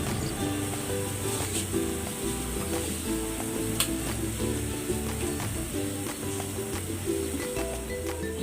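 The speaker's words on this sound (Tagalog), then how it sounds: "kumukulo na yung sabaw" Steady bubbling and sizzling of sinigang broth with milkfish simmering in a pot, continuous and close, with faint light clinks now and then.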